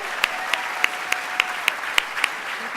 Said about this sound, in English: Let's give Kylie a round of applause.